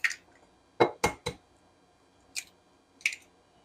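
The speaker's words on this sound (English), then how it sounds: "I've got some eggs here. I'm just going to break these in." Eggs cracked against a bowl and broken in: six sharp, close taps in uneven groups, including a quick cluster of three, with no talking.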